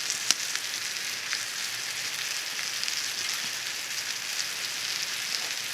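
Food cooking in butter in a cast iron pan over a campfire, giving a soft, even sizzle that crackles faintly and continuously, with one small tap near the start and no voices.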